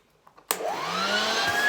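A Hoover vacuum cleaner fitted with a hose tool set snaps on after a couple of faint clicks, its motor spooling up into a steady, loud whine that holds to the end, no talking.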